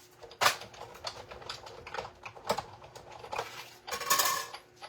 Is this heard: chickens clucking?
no